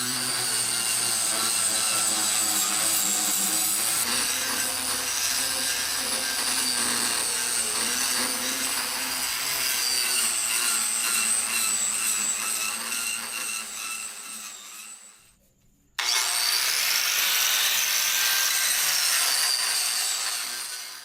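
Cordless angle grinder fitted with a turbo grinding disc strips outdoor carpet, a loud continuous abrasive whine and scraping held close for about fifteen seconds, cutting out briefly, then resuming just as loud.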